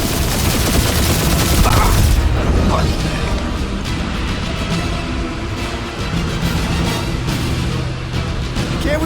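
Dense, continuous gunfire and blasts from a Guardians of the Galaxy firefight, loud and unbroken throughout, with shouted voices mixed into the chaotic battle noise.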